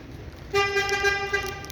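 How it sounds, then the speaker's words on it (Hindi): A car horn blares in one sustained honk lasting over a second, loud and fairly close, over faint background noise. "वो देखे हॉर्न दे रहा है।"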